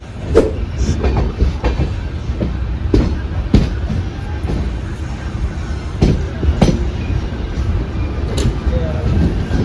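The Mangaluru–Thane express train rumbles steadily along the Konkan Railway tracks near Surathkal, with periodic clicks and clacks from the rails, loud and continuous throughout.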